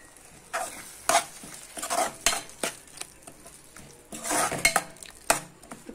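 A spoon stirs chili powder into a bubbling ridge gourd and tomato curry, scraping and clinking against the pan in irregular bursts over a continuous sizzle, with no talking.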